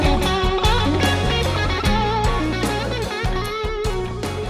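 Overdriven electric guitar with a Trainwreck-style tone from the left side of a Wampler Paisley Deluxe drive pedal, playing a busy country lick with picked notes and chord stabs, close and steady throughout.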